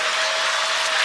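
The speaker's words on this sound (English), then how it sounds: "Please a round of applause, ladies and gentlemen, for my father and my mother." Sustained audience applause at a comedy show, dense and steady crowd clapping throughout with no talking over it.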